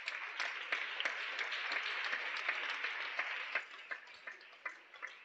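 A church congregation claps loudly and fairly evenly, a continuous wash of hand claps at a distance with a few sharper individual claps standing out toward the end.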